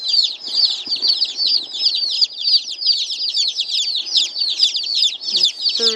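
Buff Orpington chicks cheep continuously in a dense flock, a rapid overlapping chorus of high peeping calls, close and steady, with a brief rustle near the end.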